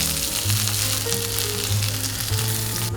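Chicken thigh meat frying in a hot pan gives a steady, close sizzle that runs the whole time with no talk. Light stirring or scraping sounds sit underneath it.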